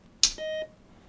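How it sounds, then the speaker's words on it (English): A Patriot Voice EZ standalone document reader, plugged into AC power and booting up, sounds one sharp click followed by a single short electronic beep that rings clearly in a quiet room. "So we hear this rhythmic beeping for about 20 seconds while everything boots up"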